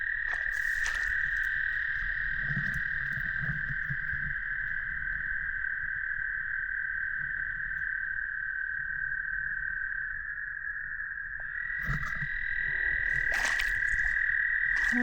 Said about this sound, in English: There's lots of frogs in here,